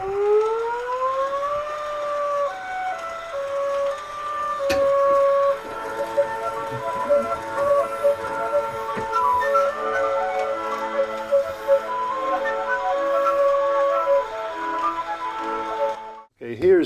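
An old record spinning on a phonograph with a diamond needle gives a wavering, drawn-out musical tone that slides upward at the start and holds steadily, loud and close, with faint clicks and no talk.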